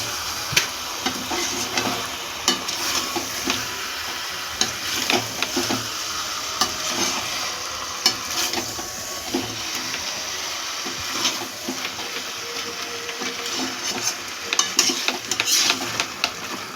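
Boiled potato and jackfruit, precooked with salt and turmeric, sizzle in a pan for a jackfruit-chicken biryani, a continuous close frying hiss broken by frequent sharp spatula scrapes and taps, with no talking.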